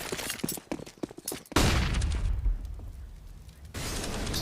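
Gunfire in a Counter-Strike match with a scout sniper rifle in play, sharp crisp shots early on followed by a heavy booming burst that rumbles on, loud and close.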